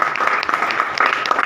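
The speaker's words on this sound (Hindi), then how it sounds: "ताली मारा देता है।" An audience clapping at a talk, a dense burst of many hands applauding together, loud and close, filling the whole moment without a break.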